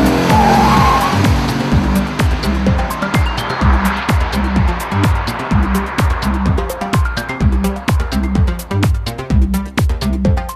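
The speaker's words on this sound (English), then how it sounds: "the snarling exhaust note adds further head-turning appeal" A Lexus IS-F's exhaust snarls and crackles through a rapid series of revs and gear changes, loud and close, with no voices.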